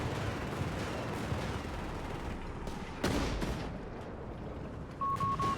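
Battle sounds from the video game Company of Heroes 3, scattered gunfire and a sharp anti-tank grenade blast around the midpoint under a continuous distant rumble of combat.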